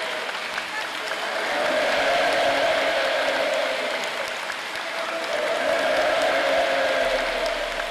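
Enthusiastic, sustained clapping from participants at a university gathering, a steady crowd roar throughout with a voice speaking over it.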